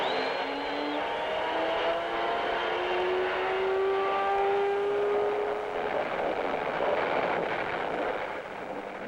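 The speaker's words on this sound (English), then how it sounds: "gentlemen, start your engines" Race car engines at the 1958 Indianapolis 500 start, a dense continuous roar with rising and falling engine tones from several cars, loud and steady through the whole stretch with no talk.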